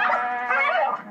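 A French bulldog struggles for breath in a brief, loud strained wheeze that turns into a whining, bawling cry, close and alone.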